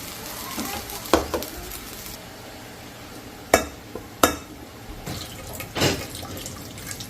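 Sinangag, Filipino garlic fried rice, being stir-fried in a pan: a soft, steady sizzle broken by a few sharp spatula scrapes and clinks against the metal.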